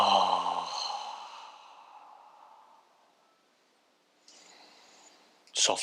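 A deep exhale during kundalini yoga breathing: a long, voiced, sighing breath that fades over about three seconds, followed by faint rustling and a brief noise at the end.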